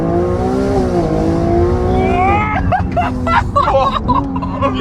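A Ferrari 296 engine revs hard from a low rumble into a rising, rapid snarl, loud and close, with short throttle blips near the end as people talk excitedly over it.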